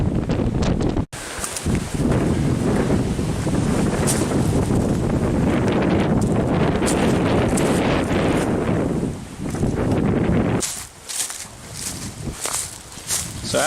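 Strong wind roars across an exposed mountain ledge on the Standing Stone Trail, buffeting the microphone in a loud, continuous rush that eases briefly and then surges again.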